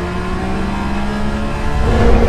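A Le Mans prototype race car driving through a corner, a loud, close, sustained engine drone with a steady pitch that swells and builds toward the end as it powers out; no voices.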